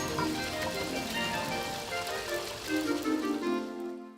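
Rainwater streams down a drainpipe into a drain on a rainy day, a continuous close splashing flow with shifting gurgles, ending abruptly.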